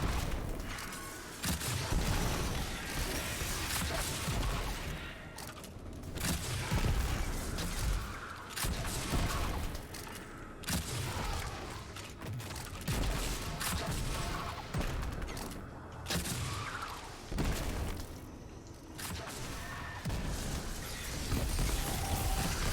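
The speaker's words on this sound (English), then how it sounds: "This is why I like this grenade launcher." A grenade launcher in Destiny 2 fires over and over in dense, loud bursts, with booming blasts and mechanical clanks running almost without a break through heavy game combat.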